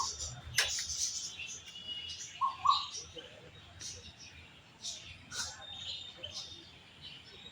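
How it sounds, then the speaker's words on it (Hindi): An Asian koel calls from a tree in front of a house. A few faint, brief, distant notes rise over a quiet background, mixed with a couple of other soft chirps. "रोज़ सुबह शाम आवाज़ आती रहती है कोयल की"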